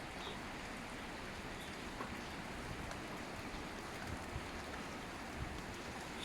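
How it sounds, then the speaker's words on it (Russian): Strong wind and rain outside in the mountain village of Loo near Sochi produce a constant, faint, broad rushing roar with no distinct gusts, heard from a distance without any voices. "Так, сильный ветер у нас на улице."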